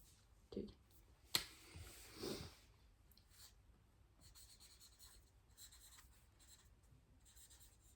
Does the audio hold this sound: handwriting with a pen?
yes